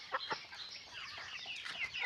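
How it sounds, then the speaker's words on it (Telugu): Young village chickens, a few months old, clucking and chirping in a brief burst of several short calls, fairly faint and without any talk. "కోడి పిల్ల మేపుకుంటా నాకు సరదా అండి"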